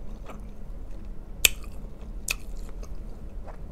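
Quiet close-up chewing of shrimp from a shrimp boil, soft squishy bites with a couple of sharp crunchy clicks, alone without talk.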